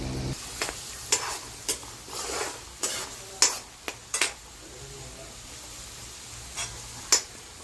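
Green chillies, onions, fennel, cumin and mustard seeds sizzling in a pan, with a spoon stirring and scraping in sharp, irregular clacks over a soft, continuous frying hiss.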